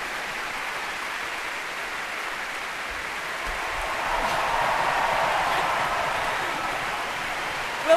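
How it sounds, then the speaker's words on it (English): A large concert-hall audience at the BBC Proms applauds steadily in a dense, even wash of clapping that swells slightly toward the end. "big cheer for Marcus Brigstock"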